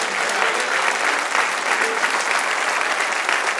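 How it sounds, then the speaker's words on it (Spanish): A church congregation gives sustained applause for the Lord at a Spanish-language sermon, a continuous bright wash of clapping with faint crowd murmur beneath. "Denle un aplauso al Señor."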